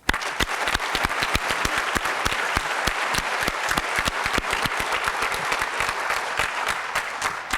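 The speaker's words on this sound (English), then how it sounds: "Please give all of them another round of applause." Banquet guests at an annual conference awards ceremony give a long round of applause for award recipients, a full, steady wash of many hands with crisp nearby claps punctuating it at a constant loudness.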